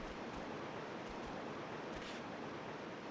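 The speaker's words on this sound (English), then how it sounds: "Just crashing waves to listen to." Steady crashing-wave ambience from the Brave Fencer Musashi video game, a continuous broadband surf wash with soft low rumbles, even and unbroken throughout with no music or voices.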